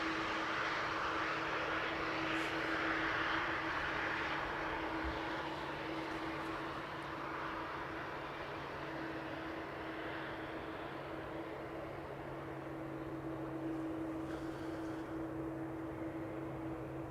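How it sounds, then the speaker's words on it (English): Airbus A330 jet engines spooling up as the airliner taxis at Amsterdam Schiphol Airport, a steady distant roar with a sustained whine heard from outside, continuous and without speech. "The A330 has begun taxiing again. You can hear the engine spool up."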